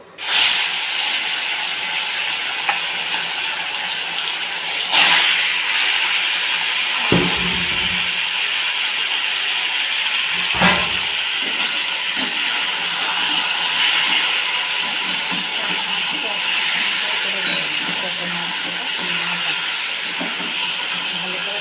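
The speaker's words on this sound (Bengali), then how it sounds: "মাছটা ভেজে নেব দেখো বন্ধুরা তেলটা গরম হয়ে যাচ্ছে এবার দিয়ে দেবো" Fish fries in hot oil in a pan, a loud, steady, close sizzling hiss that holds evenly throughout with a few faint knocks and clatters underneath, no voices.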